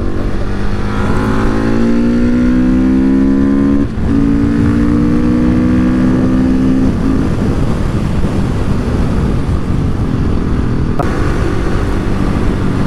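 A KTM 690 SMC-R single-cylinder supermoto, its engine revving and climbing through gears while riding, loud and close with strong wind rush throughout.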